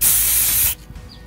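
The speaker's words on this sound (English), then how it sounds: "I'm going to hit it with the good GW Chaos Black undercoat because I don't want to use bad spray paint" A can of Games Workshop Chaos Black undercoat sprays onto miniatures in one loud, close hiss lasting under a second, then cuts off abruptly into near silence.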